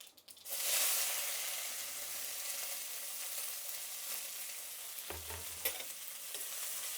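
Red onions sizzle steadily in hot oil with spluttered mustard seeds, a continuous close frying hiss with a dull knock of the pan partway through and occasional stirring scrapes.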